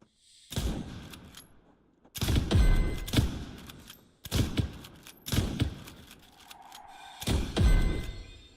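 Pistol fire in a video game: six loud, booming single shots with irregular gaps of about half a second to two seconds, each one trailing off in a rumbling echo, and no talking.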